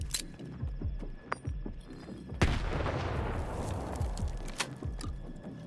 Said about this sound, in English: Whoopsie, that's a grenade.